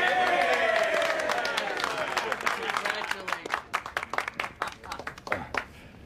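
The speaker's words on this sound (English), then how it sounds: "for your kind applause and your generous support" Applause from a crowd of Republicans in a 1920s Atlantic City hall as a new mayor is announced, dense clapping that thins into scattered, separate claps toward the end.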